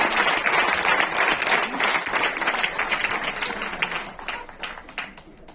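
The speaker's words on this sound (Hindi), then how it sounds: "जोरदार तालियां।" Loud, sustained applause from the crowd at a Hindi comic poetry gathering for poet Mumtaz Naseem, dense and continuous at first, then gradually thinning and fading toward the end.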